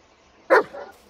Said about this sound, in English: Ah, yes, dog.